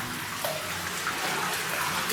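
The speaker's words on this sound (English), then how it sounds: "See it all dripping down." Water drips and trickles down the rock walls inside a gold mine, making a steady splashing hiss that fills the enclosed space without pause.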